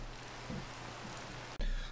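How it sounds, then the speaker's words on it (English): Steady rainfall in Minecraft, a soft continuous hiss filling the whole stretch at a fairly even level, ending with a brief cut and a louder burst of the same wash. "Oh, it's raining out."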